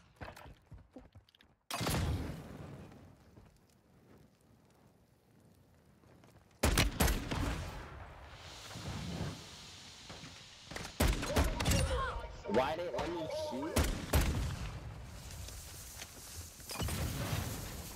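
Gunfire in the video game Warzone 2, a few sharp bursts of shots spread across a stretch with quiet gaps, mixed with game ambience, movement and occasional voices.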